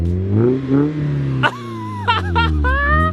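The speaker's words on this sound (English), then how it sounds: "Just put it on the clutch and give it a couple revs." A Mazda Miata's engine revs up and down several times in quick bursts, close and loud over a steady idle rumble.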